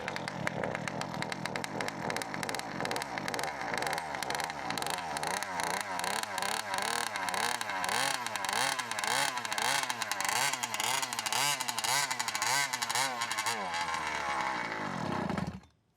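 A flooded Zenoah RC gas engine running and revving as it burns off excess fuel, a loud, buzzy two-stroke drone with repeated throttle swells that cuts off abruptly near the end.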